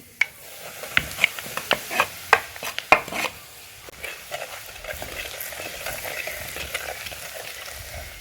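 Mustard seeds frying in hot oil for a traditional village-style lemon pickle: a run of sharp, close pops and spits at first, easing into a continuous sizzle.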